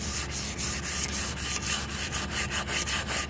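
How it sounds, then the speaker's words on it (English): Power sander fitted with 80-grit paper stripping the finish from a 1998 Suzuki Bandit swingarm: a steady, close abrasive whir with rhythmic rubbing strokes roughly every third of a second, no talking. "going to use the 80 grit on the sander"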